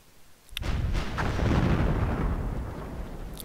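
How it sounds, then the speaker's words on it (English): Soviet mortar fire in the WWII strategy game War Leaders: Clash of Nations, one sharp close blast that swells into a long, heavy rumbling roar and slowly fades. "These are the Soviet mortars."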